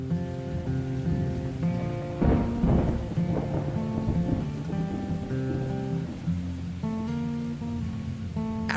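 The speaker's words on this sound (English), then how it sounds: "capture some of the afternoon thunderstorms approaching that are typical of the meteorology in Central Florida in July" Thunder booms and rolls as a Central Florida July afternoon thunderstorm brings steady rain, with soft sustained tones drifting underneath.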